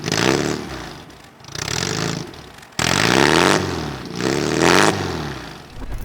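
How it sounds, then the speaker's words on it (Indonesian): Classic Mini British Open Classic fitted with an aftermarket racing exhaust revs hard in several loud, close bursts, each rising and falling with a raspy, crackling exhaust note. "cuma dengan pakai knalpot ini suara jadi enak,"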